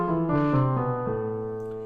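A few sustained notes of a harmonic minor scale ring out on a keyboard-like instrument, stepping through a short melodic line with a raised leading tone before fading gently.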